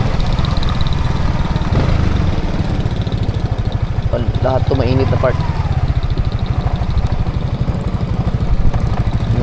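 A motorcycle engine idles steadily close by in a hot parking area, its low rumble running the whole time under conversational talk from people nearby.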